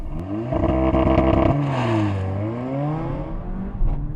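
A Mercedes-AMG A45 S launches from a race start, its engine holding a loud revving drone before the gears catch and the pitch climbs and drops through shifts as the car accelerates hard, close and without talk.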